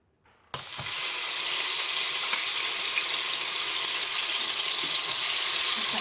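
Sofrito hitting hot oil in a pot reserved for rice, starting with a sharp burst and settling into a loud, steady, close sizzle that runs unbroken to the end.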